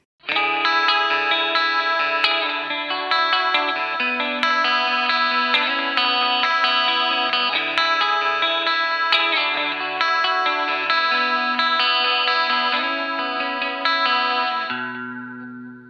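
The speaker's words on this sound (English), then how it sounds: "Now let's see what it sounds like miking up an electric guitar amp." Electric guitar amp playing sustained chords, heard through a narrow, tinny payphone microphone that gives a boxy, compressed tone with shimmering modulation.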